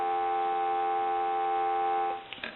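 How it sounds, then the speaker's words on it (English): Steady dial tone hums from the handset of an Automatic Electric rotary desk telephone, holding unbroken for about two seconds before a brief clatter at the end. "Go ahead and give you some dial tone"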